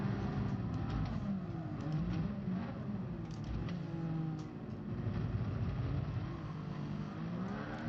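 A race car engine in the video game Gran Turismo Sport drones steadily throughout, a continuous mid-level roar with shifting pitch and no speech.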